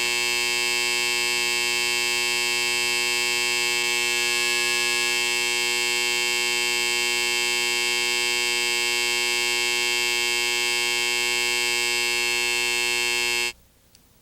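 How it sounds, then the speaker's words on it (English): A door buzzer sounds in one long, loud, unbroken electronic drone that holds steadily for about thirteen seconds before cutting off abruptly. "the door buzzer sounded."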